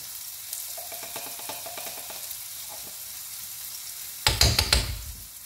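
Onions and garlic paste fry in a pan for aloo gobi, a soft steady sizzle with a few light knocks, then a louder burst of crackling spatter near the end, with no one talking.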